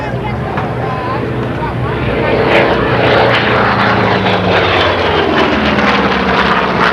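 A WWII-era F4U Corsair propeller fighter flying at a 1993 Clark County aviation heritage air show, giving a steady loud engine drone that swells slightly midway, with a voice talking over it.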